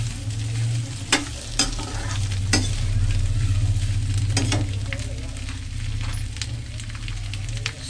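Potato pieces fry steadily in a pan for a homemade patties filling, with a continuous close sizzle, a low rumble underneath and several sharp clinks and scrapes of a spoon stirring.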